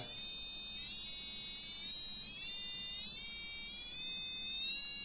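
A high-pitched buzzer driven by an Arduino with a rotary encoder sounds a steady, piercing electronic tone with stacked harmonics, its pitch wavering slightly and stepping upward over several seconds, fairly loud and alone.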